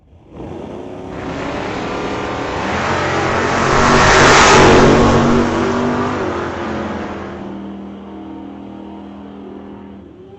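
A 1997 Chevrolet pickup and a 1966 Chevrolet Bel Air launch in a drag race, engines roaring loud and close, swelling to a peak midway before fading as they pull away.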